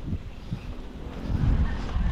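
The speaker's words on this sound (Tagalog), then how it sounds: "Ganda ng hangin yan ha, preskong hangin no." Fresh wind blows outdoors near a papaya patch in sun, a low rumbling buffet against the microphone that swells stronger toward the end.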